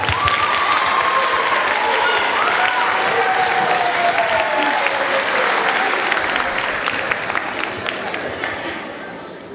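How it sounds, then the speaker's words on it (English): Audience applause fills a middle school spring band concert, a dense, steady wash of clapping from a large crowd that holds loud throughout and tapers slightly at the end, with a faint tone running underneath. "That deserves some applause."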